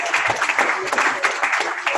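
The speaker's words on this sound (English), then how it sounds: "Give him a round of applause." A small meeting crowd gives a round of applause for a contest winner, with dense, continuous clapping close by. Some voices mix in.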